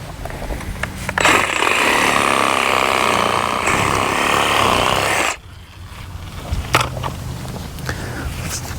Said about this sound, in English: I'm just going to chop this thing out with my reciprocating saw with a really toothy wood blade on it.